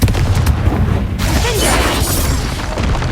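A Confringo blasting spell explodes in Hogwarts Legacy, a loud, dense booming blast with rumbling debris that fills the whole short stretch, with a shouted voice over the din.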